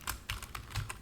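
Keys on a computer keyboard tapped in a quick burst of about six close, crisp clicks while code is typed, alone with no talk.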